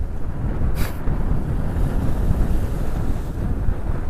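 Large sea waves surge and roar with heavy wind buffeting the microphone, a dense continuous rumble with a brief hiss burst early on, recorded along the coast near Banda Aceh during a motorcycle ride.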